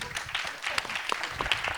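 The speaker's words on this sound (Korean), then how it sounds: "다시 한번 큰 박수 부탁드립니다" An audience at a university talk concert on unification and peace claps, a steady wash of many hands with a few sharper individual claps standing out.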